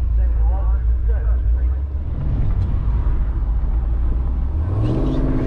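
Cammed 5.7 Hemi Dodge Challenger R/T cruising after a night at the drag strip, its steady low engine drone filling the cabin throughout, with a rising rev near the end.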